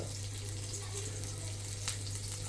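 Potato and pea cutlets shallow frying in a pan give off a steady, even sizzle and crackle, close and continuous, over a low constant hum.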